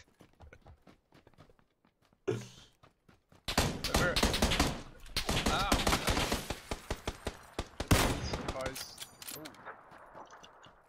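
Gunfire in PUBG: rapid bursts of shots close by, crackling in quick strings after a quieter stretch of footsteps, with voices talking in between.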